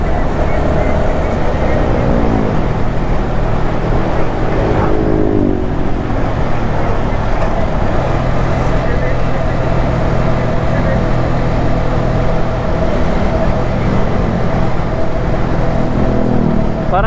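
Motorcycles pass along the Marilaque mountain road amid steady loud wind and engine drone from a riding vehicle, with brief swelling engine tones of passing bikes and a voice talking over it.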